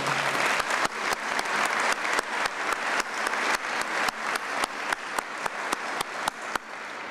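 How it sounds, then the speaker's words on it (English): An audience gives a sustained round of applause for a school principal at a State of the Schools speech, with dense clapping at an even level from start to finish. "let us give her a round of applause."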